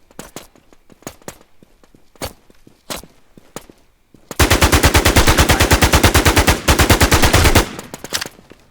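Scattered single gunshots crack in a video game, then a long sustained burst of rapid automatic fire rattles loudly before a few more isolated shots.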